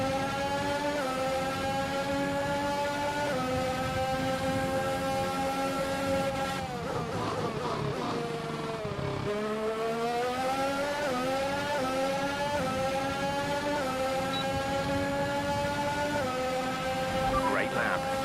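Formula 1 race car engine in F1 2021, a sustained loud whine sweeping up and down in pitch through repeated gear changes, with a deeper dip near the middle as the car slows and picks up again.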